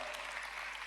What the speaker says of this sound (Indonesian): Buku petunjuk sekali lagi beri tepuk tangan yang meriah.